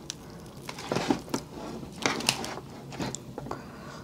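Canadian lobster shell cracks and crunches by hand at close range, a series of brittle snaps and wet squishes in uneven bursts with steady low background noise.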